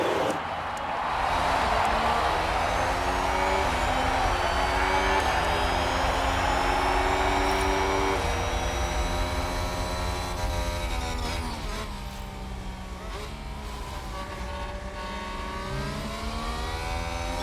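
Formula 1 cars in the F1 Manager 22 video game roar away from the start of the Spanish Grand Prix. The loud, layered engine notes rise in pitch through successive gear shifts, with several cars blending together and no voices.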